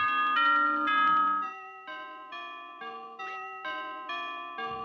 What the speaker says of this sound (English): A grandfather clock, chiming the same song every time.